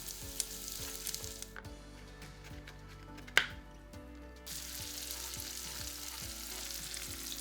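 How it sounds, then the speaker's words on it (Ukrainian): Prepared onion sizzling in well-heated vegetable oil in a frying pan, a steady hiss with a sharp clatter midway, brief quieter stretch, then the sizzle resumes with soft stirring sounds. "Підготовлений таким чином лук відправляємо на пательню з добре розігрітою рослинною олією"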